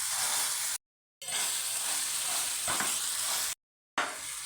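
Tomatoes for Mumbai pav bhaji being mashed with a masher in a pan over high heat, giving a continuous sizzling hiss broken by two short silent gaps, with a faint scraping thud near the middle.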